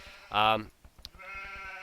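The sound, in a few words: sheep bleating in Age of Empires II video game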